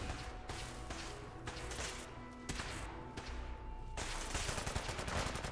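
Repeated gunfire in the Fallout 4 video game, a dense barrage of shots and bursts from several shooters that goes on without a break, loud and close, with no talk.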